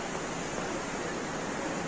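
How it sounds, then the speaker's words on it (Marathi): The Alaknanda river flows near Badrinath in the Himalayas with a steady, broad rushing roar of water. The sound is continuous and even, with no voices over it. "अलकनंदा नदी आहे"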